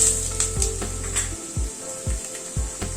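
Ginger paste sizzles in a hot pan with fried potatoes, a steady crackle punctuated by soft rhythmic scrapes and knocks from stirring about every half second.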